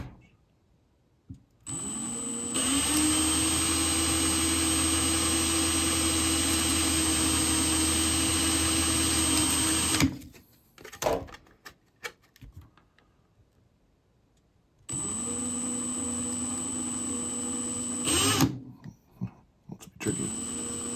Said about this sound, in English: All right, drill the other two up here.